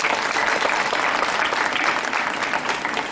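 A large audience claps loudly and continuously at the science block inauguration of a girls' school in Chamba, a dense, even round of applause with no gaps.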